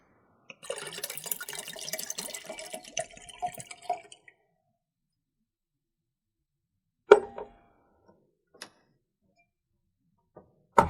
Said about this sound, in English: pour the water back into the jug.